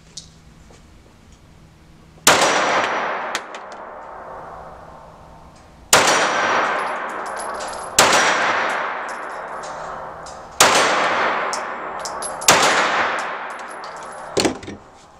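Loud Glock 43X and 48 pistol shots ringing a steel gong target at a shooting range, about six sharp reports spaced a couple of seconds apart, each followed by a long metallic ring that decays.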